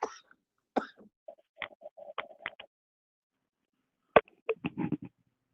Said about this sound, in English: You hear me coughing my lungs?